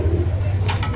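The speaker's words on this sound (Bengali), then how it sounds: "এখানে রয়েছে আরো একটা অফারের কবুতর মাশাআল্লাহ দেখতেই পাচ্ছেন।" Pigeons at a pigeon farm give a low, continuous cooing, close and moderately loud, with a brief rustle near the end.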